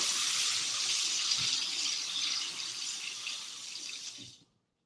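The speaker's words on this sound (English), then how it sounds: "So again, I'm just filling it up with water." Tap water gushes steadily into a tray for washing a cyanotype print, a close, continuous rushing stream that cuts off abruptly at the end, with no voices.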